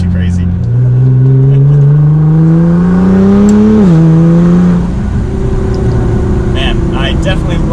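Nissan GTR engine revving while driving, a loud, close, rising drone that climbs, dips at a shift and settles into a steady cruise, with faint chatter in the background.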